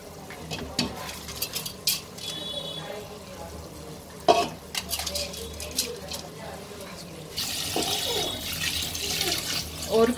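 Soaked rice and water go into a cooking pot for mushroom biryani, giving splashing, pouring and a few sharp clinks of a utensil against the metal pot, with a steady rushing wash building toward the end.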